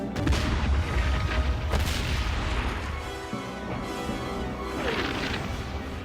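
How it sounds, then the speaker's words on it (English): Artillery opens fire on a 1917 Palestine battlefront, with heavy rolling booms layered over a dense, continuous rumble that stays loud for the whole stretch. "Give the artillery the order to open fire."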